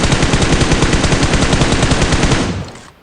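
Automatic rifle fire in the battle-royale game PUBG, a loud sustained burst of rapid shots in steady rhythm for several seconds before abruptly stopping.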